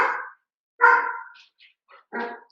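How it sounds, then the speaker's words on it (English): Dog barking in short bursts, three or four barks with pauses between, fairly close and alone with no talk over it. "I think they're done barking."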